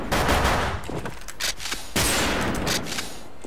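Rapid bursts of automatic gunfire in PUBG Mobile, loud and close, dense overlapping shots in several volleys with brief pauses between them, no talking.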